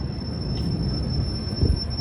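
A Minneapolis Blue Line light rail train rolls past downtown as a steady low rumble with faint wheel squeal, moderately close and alone with no talk.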